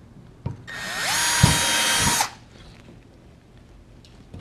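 A power drill bores a hole through an ABS plastic water tank, a loud steady whine lasting about a second and a half with a clunk as the bit catches, then stopping; no talking.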